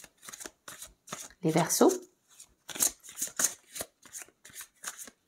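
Lenormand cards are shuffled in quick rhythmic riffling bursts, close and crisp, with someone speaking French between and over them.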